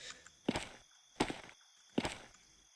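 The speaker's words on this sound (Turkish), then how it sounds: "şu adım sesleri tanıdık geliyor" Three slow, evenly spaced footsteps in the video game The Pit Stop, each a soft thud with a crunchy tail, fairly quiet, with no talking.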